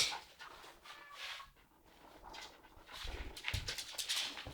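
A small West Highland white terrier pants and whimpers softly in short bursts, moderately close, with brief breathy snuffles, shown off for viewers.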